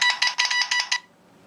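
The Telegraph text message tone on an iPhone running iOS 4.2 plays a rapid series of bright, clipped electronic beeps like telegraph keying for about one second, then ends, close and clear with no talk.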